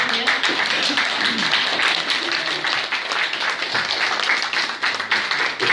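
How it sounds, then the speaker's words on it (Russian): Audience applause at a bookstore talk and book signing, sustained clapping from a room full of people with a few voices faintly underneath. "Аплодисменты"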